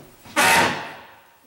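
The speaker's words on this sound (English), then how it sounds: "trap door" A small trap door in a condo being shut, giving one loud close thump with a short rattle that fades over about a second, heard alone.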